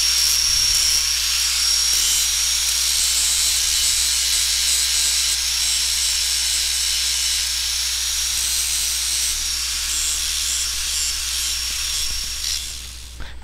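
A rotary grinder working a hardened Alumaloy aluminum repair, a steady high-pitched whirring hiss held for over ten seconds with little change, close and loud.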